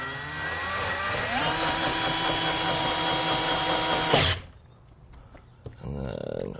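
A power driver whirs steadily up close for about four seconds, sinking the last small screw into a RockyMounts WallRide SS+ wall-mounted bike storage rack, then cuts off abruptly, followed by faint handling noise and a brief second whir.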